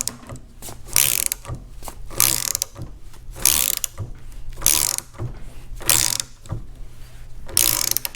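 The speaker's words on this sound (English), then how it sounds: "what we're going to do is draw the stud through" A ratchet turning a lug nut to draw an ARP wheel stud through the hub of an AE86, loud rapid clicking bursts repeating in strokes with short pauses between.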